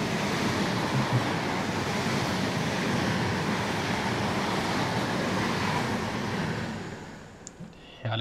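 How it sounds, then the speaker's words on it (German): InterCity train carriages rolling past at a station in Train Sim World 2, a loud continuous broadband rush and rumble lasting several seconds before easing off near the end, with no talking. "Wie diese Wagen klingen bei der Vorbeifahrt, das ist einfach nur herrlich und absolut realistisch."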